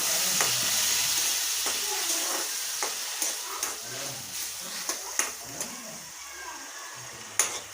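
Lemon rice tempering stir-fried in a pan on a switched-off gas stove with a little water added, a steady broad sizzle with intermittent spoon scrapes and clicks against the pan, close and continuous.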